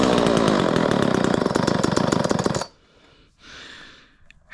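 A Homelite XL chainsaw with a 16-inch bar, started cold on choke, fires and buzzes loudly in a rapid sputtering run for a couple of seconds, then cuts out, followed by a few faint clunks and rustles.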